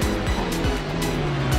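Porsche GT race car in a sim racing game at Road America, engine snarling loud and continuous with rising and falling revs as it closes in to overtake.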